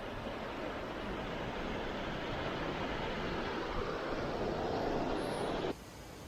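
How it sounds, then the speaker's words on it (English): Water runs at Innamincka in the South Australian outback, a constant broadband rushing wash that stays even and fairly close, then drops abruptly to a quieter hiss just before the end. "Listen to the sound of the running water."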